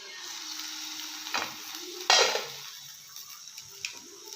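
Onions for a simple Karnataka-style onion palya sizzle steadily in oil while a spoon stirs and scrapes the pan in a few short bursts, close and clear with no talking.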